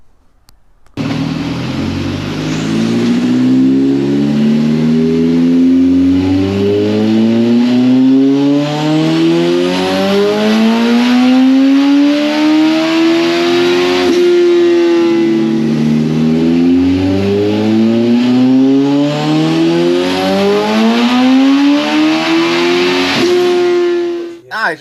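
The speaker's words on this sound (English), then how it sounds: "we're going to jump on the dyno here, start making some power." Turbocharged Suzuki Hayabusa motorcycle revving hard on a dyno, the engine note climbing and falling in long sweeping pulls, loud and close, running continuously for the whole stretch.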